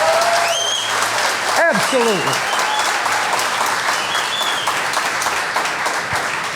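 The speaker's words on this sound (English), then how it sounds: "Can I get a round of applause for how far we've come in such a short time?" A crowd applauding at a whiskey brand address, loud continuous clapping with a few whoops, while a voice briefly speaks over it.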